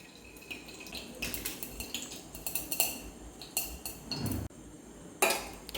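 A clay pot of colocasia stem soup with cinnamon, cloves and cardamom rings with a run of light ceramic clinks and clatters. The lid settles with a final sharper knock, close by and with no voices.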